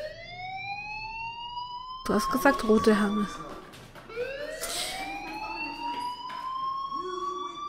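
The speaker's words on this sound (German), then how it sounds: "do you hear that fire alarm? That means you should be outside." A fire alarm in the video game Life Is Strange wails as a steady rising and falling electronic tone while players talk over it in German.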